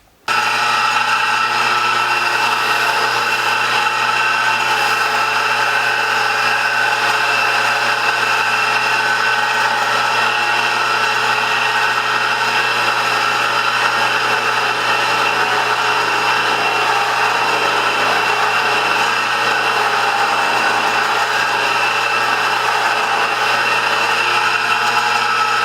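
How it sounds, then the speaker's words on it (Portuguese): An electric polisher runs steadily on the painted body of a Tagima MB-1 guitar, a constant close whine and hum that holds without a break for the whole stretch. "Passei o corpo aqui na politriz e a maioria dos riscos saíram"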